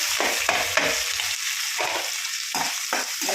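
Onion, green chilli and curry leaves fry in a hot pan with a steady, loud sizzle, while a spoon stirs and scrapes in several bursts, close by and with no one talking.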